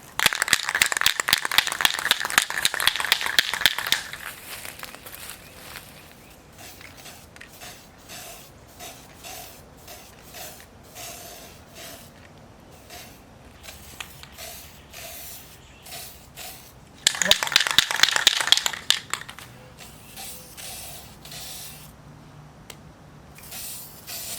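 Two bursts of aerosol spray paint hiss, a loud four-second blast at the start and another near the end, with quiet clicks and rattles in between.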